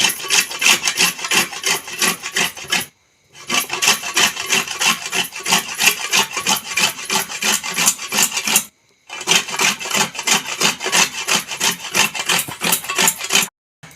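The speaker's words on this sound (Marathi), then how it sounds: "खोबर किसून घेते मम्मी आता" Dried coconut grated by hand in a home kitchen, a loud, continuous rhythmic rasping scrape in three long runs separated by brief pauses, with no talk.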